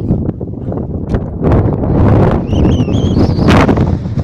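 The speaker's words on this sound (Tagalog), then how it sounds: "pasensya na mga tol kung malakas yung hangin" Strong wind roars and buffets the microphone in steady gusts at the Edge of the World cliffs near Riyadh, Saudi Arabia, with a faint rustle and a brief high whistling tone partway through.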